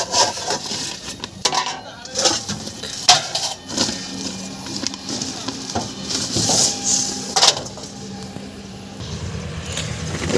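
Cooking pots, a pressure cooker and metal utensils clatter and rub inside a cloth bag on a truck, irregular knocks and scraping shuffles up close with scattered sharp metallic clinks.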